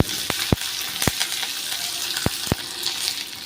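Onion, garlic, green chilli, curry leaves and ginger sauté in oil, a steady close crackling sizzle broken by a few sharp spatula clicks against the pan; no talking.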